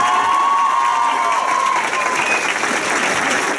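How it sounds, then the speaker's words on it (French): Long, warm applause from a crowd in a university hall greeting an arriving guest, a dense steady wash of clapping with a few cheers, sustained and loud throughout. "il est accueilli très chaleureusement par de longs applaudissements"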